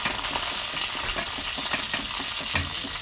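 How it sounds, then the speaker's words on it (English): Plantain porridge being stirred continuously in a tall pot, a steady close scraping and bubbling texture with faint sizzle-like hiss running throughout, no voices. "this is what we're gonna use for stirring the plantain right now and distribute it all evenly across the high pot"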